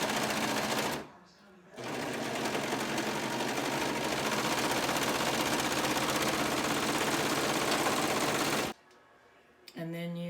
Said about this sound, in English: you just stitch straight down just along that one short edge